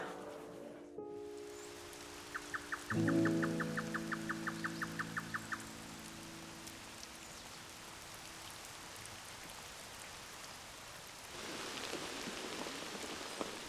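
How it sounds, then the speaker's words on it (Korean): Steady spring rain patters through a forest, a soft continuous hiss of drops with a few faint bird calls and brief tonal chirps near the start; no one speaks. "봄비가 내리는 숲에서"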